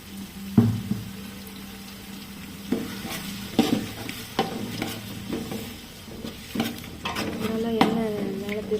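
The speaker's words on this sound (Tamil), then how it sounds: "அடுத்து நம்ம இஞ்சி பூண்டு மிளகாய் இல்லை பட்டை லவங்கம் அரைச்ச பேஸ்ட்டை நம்ம சேர்த்துக்கலாம்." A paste of ginger, garlic, chili, cinnamon and clove is stirred into sautéed onions in a hot pan for vegetable biryani, giving a steady soft sizzle broken by scraping spatula strokes, close up.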